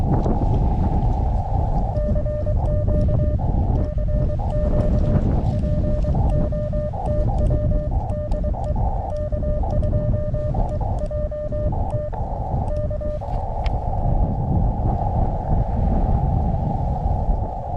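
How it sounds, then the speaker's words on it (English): Strong wind buffeting a microphone outdoors in a state park during a portable radio session, a loud steady rumble throughout, with a faint beeping tone pattern running through the middle. "this wind is brutal"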